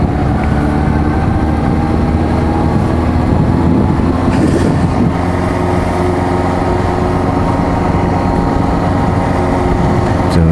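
A Kawasaki Z400J motorcycle engine drones loudly and steadily during a test ride, a close, continuous mechanical hum with a brief rise in pitch partway through.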